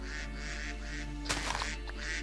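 Quacking from a duck in the Minecraft video game, a few harsh calls bursting out around the middle over a steady hum of game sounds, with no talking.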